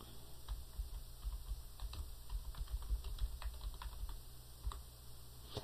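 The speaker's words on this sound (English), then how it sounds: "we want to go ahead and type that name out" Steady, brisk keystrokes on a computer keyboard as a payee name is entered into a check in Peachtree accounting software, close and fairly quiet, with no talking.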